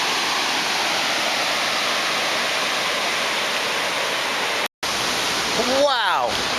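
Havasu Falls at Havasupai pours with a loud, steady, close roar of falling water. The sound cuts out for a moment, and faint chirping rises over the rush near the end.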